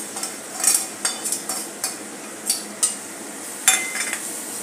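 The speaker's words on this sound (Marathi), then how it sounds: "हे आता कोरडे मसाले यात घालून घेऊया।" A spoon scrapes and clinks against a pan as dry ground spices such as cumin powder, garam masala, Kashmiri red chilli and turmeric are stirred in, giving a series of light metallic taps and scrapes over a soft sizzle.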